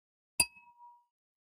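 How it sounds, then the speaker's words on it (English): A single bright ding from a small bell struck once for a toast, a sharp metallic strike whose clear tone rings briefly and fades away, alone in silence. "I'm gonna knock this bell back. The queen told me to do the bell."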